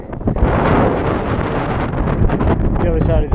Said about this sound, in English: all of a sudden the wind just picked up big time